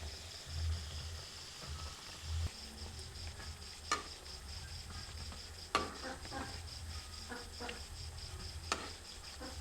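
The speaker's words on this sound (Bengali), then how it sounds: "এরপর ভালো করে এগুলি ভেজে নিচ্ছি।" Puri khaja pastry layers frying in hot oil, a soft steady sizzle with scattered crackles and pops, fairly quiet and close, no talking.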